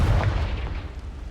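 A Confringo blasting spell explodes in Hogwarts Legacy with a single heavy, booming burst that rumbles low and loud, then fades over about a second.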